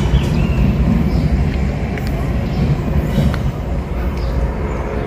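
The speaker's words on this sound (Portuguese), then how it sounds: "o trem acabou de passar" A train rolls past close by, a loud, continuous low rumble of wheels and cars filling the whole stretch with steady, dense noise.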